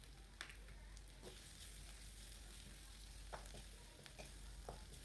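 A steady, faint sizzle of spices frying in a pan for soy sauce chicken, with occasional soft clicks and scrapes of stirring throughout.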